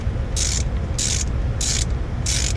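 A ratchet turns fuel injector bolts on an Evinrude E-TEC G2 outboard, making four evenly spaced bursts of rapid pawl clicking over a steady low background hum.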